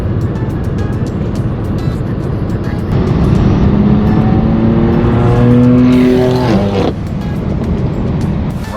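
A straight-piped BMW M4 F82 drives on the road, a loud, raspy exhaust that rises through the gears with a climbing whine, then drops back, close and continuous.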